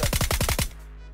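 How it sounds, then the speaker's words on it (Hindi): Rapid burst of about six VSS rifle shots in BGMI, evenly spaced and loud, cutting off abruptly into a quiet tail. "VSS से निहत्ते बंदे को ठिलाने की पूरी कोशिश कर रहा हूँ"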